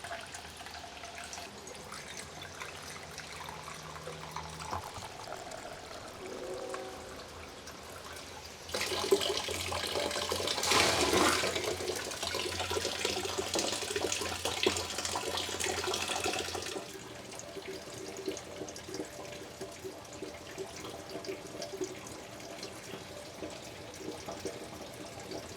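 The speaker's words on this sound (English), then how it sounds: "Some drips coming through the center. And a few drips out the bottom." Rainwater trickling and dripping through a 3D printed filter with fine mesh, a soft quiet flow that swells into a steady splashing stream midway, then falls back to faint drips.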